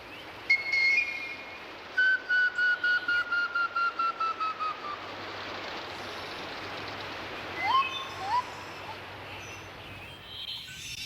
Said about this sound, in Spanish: Este es un silbato de un tubo abierto